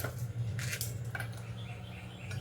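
A spoon mixing a fresh salad with onion, coriander and lemon juice in a bowl, with a few soft clinks and scrapes against the bowl over faint background hum.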